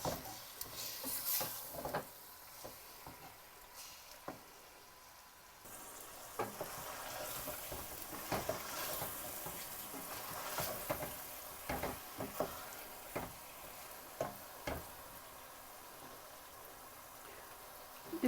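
Mutton frying in a pot for biryani, a quiet, low sizzle broken by occasional clinks and scrapes of stirring, close and soft with gaps of near silence.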